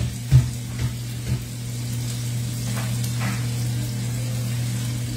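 Kangkong cooking with tuna, tomato and onion in a pan gives a low, steady sizzle under a constant electrical hum, opening with a few soft clanks of a utensil against the pan, and no one speaking.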